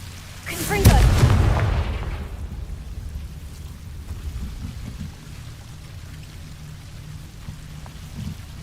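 A Confringo fire-curse spell explodes in the Hogwarts Legacy video game: one loud, sharp blast with a crackling burst that quickly fades into a low rumbling tail.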